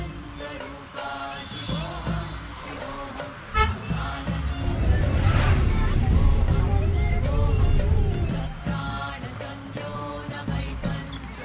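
Congested road traffic heading to a temple in Kothaguda, Hyderabad: engine rumble swells loud in the middle as vehicles pass close, with short horn toots early on and a person talking over it.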